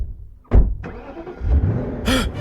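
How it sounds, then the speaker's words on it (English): Car engine cranks and catches as it starts, then settles into a mid-pitched running drone while the car pulls out of a driveway, close and fairly loud, ending with a brief bright rush. "The toys made it just in time to watch the car pull out of the driveway"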